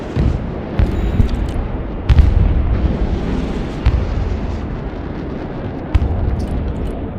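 Ballistic missile strikes in the war game Broken Arrow land as a string of heavy explosions, deep rumbling blasts with several sharp impacts spaced a second or two apart, loud and close.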